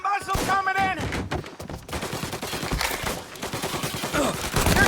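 Rapid gunfire in Mafia Definitive Edition, a dense, loud run of shots and bursts over a continuous roar, with a voice shouting over the opening second.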